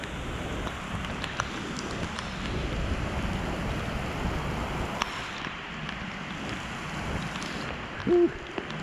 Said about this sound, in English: A lot of rain this year.